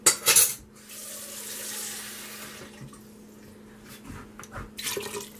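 Dishes clink at the start, then water pours and splashes from a measuring cup into a stew pot, followed by scattered knocks and clatter of utensils, all close and moderate.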